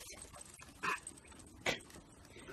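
Puppies giving two short yips or whimpers about a second apart, fairly near, over a low background hum with no talking.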